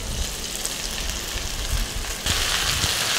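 Okra and onion frying in oil in a home kitchen, a steady dense sizzle and crackle that continues without pause and grows slightly louder partway through.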